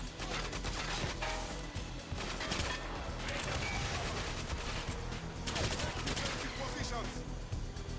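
Sustained gunfire from GoldenEye 007: Reloaded, a 2011 video game, with rapid continuous shots and busy combat noise running loudly throughout, and a voice faintly present underneath.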